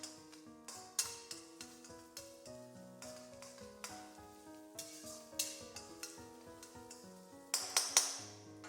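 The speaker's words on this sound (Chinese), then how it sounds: "锅里留一点点底油，放入切好的姜蒜，" Chopped ginger and garlic stir-fried in a film of oil in a wok after winter melon is removed, with a steady soft sizzle broken by frequent metallic spatula scrapes and clinks against the pan, ending in a louder burst of spitting.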